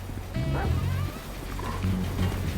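Dog barking in the video game GTA 5, a few close yips and barks in quick bursts over a steady low game hum, with a whimpering tone between them.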